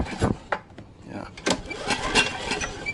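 A generator engine with blow-by leaking past worn piston rings runs with uneven chuffing bursts and puffs, close and fairly loud, with a voice talking over it.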